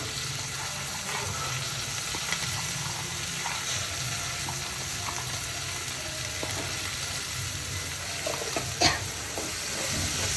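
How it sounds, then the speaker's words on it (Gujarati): Beans and grains tipped into a hot frying pan and stirred, a soft continuous sizzle with scattered light scraping and a brief clatter near the end. "અને સાથે આ જે કઠોળ હતા અને દાણા જે બધા હતા એ પણ નાખી દઈશું."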